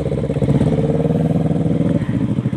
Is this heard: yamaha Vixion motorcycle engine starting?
yes